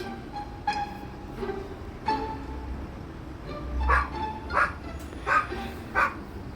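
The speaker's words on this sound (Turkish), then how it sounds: "Ama bizden de tam köpek sesi çıkıyor" A dog barks repeatedly at a moderate distance in a prison-escape video game, short yelps spaced irregularly and growing more frequent toward the end, over a low background hum.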